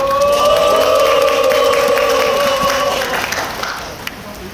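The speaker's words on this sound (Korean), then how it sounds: "우리 참석자 모든 분들의 박수 환호로 오늘 기자회견을 시작하도록 하겠습니다" Press conference attendees launching a labour and civic joint committee break into applause and cheering outdoors, a loud sustained burst of clapping and voices that gradually fades toward the end.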